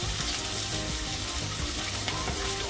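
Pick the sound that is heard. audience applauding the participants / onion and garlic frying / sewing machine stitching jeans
onion and garlic frying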